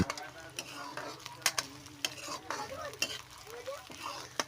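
Chilies, bay leaves and onions frying in oil in a pan while being stirred, with a steady sizzle broken by repeated scraping strokes of a spoon against the pan, close and unaccompanied by speech.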